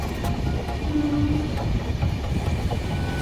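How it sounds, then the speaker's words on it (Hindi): Passenger train travelling at night from Ranchi toward Varanasi, a steady loud rumble with clickety-clack of wheels and a low hiss, heard from inside, no voices. "ये ट्रेन वाया मुरी तोरी सासाराम के रास्ते होते हुए बनारस जाती है।"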